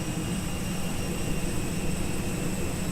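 Steady jet-engine roar from an Airbus A321 with Pratt & Whitney engines in a flight simulator soundpack. It is a constant broadband whoosh with a faint high whine above it, evenly loud and unbroken, with no talk.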